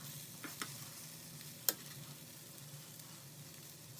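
Teriyaki tofu pieces frying in a pan, a faint steady sizzle broken by a few soft taps and one sharp click as the pieces are flipped with tongs.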